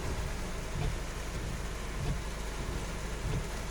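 Heavy rain pours steadily during a storm, a dense, constant hiss with low rumbling beneath it, broad and unbroken throughout with no voices.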